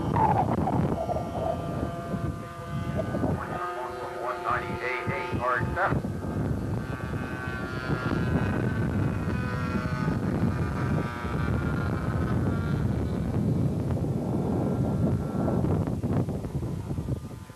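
A radio-controlled scale model airplane flies at a 1984 scale masters event, giving a steady distant engine drone mixed with wind noise across the whole stretch, with people speaking now and then.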